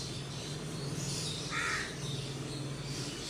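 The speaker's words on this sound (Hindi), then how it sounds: "आज कौवे ने भी बोले" A crow caws once, briefly and moderately loud, against steady outdoor background noise on a sunny rooftop.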